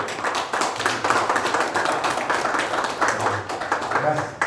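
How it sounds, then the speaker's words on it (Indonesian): Brief bursts of hand clapping at a press conference for the film Satu Hari dengan Ibu, mixed with loud speech over a PA, the clapping scattered and moderately close. "Tepuk tangan."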